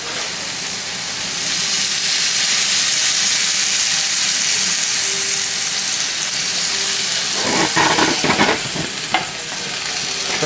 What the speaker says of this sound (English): We're going to add our wine.